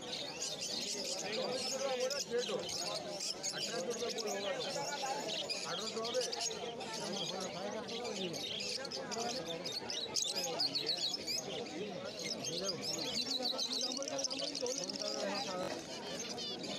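At a pet bird market in Uluberia, caged birds including white and black java sparrows and lovebirds chirp and coo continuously in a busy chorus, with someone talking over them.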